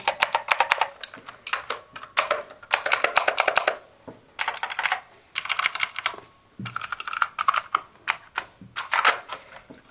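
Rapid clicky typing on a White-Shark gaming keyboard with blue switches, loud crisp keystrokes in bursts separated by short pauses, close to the microphone.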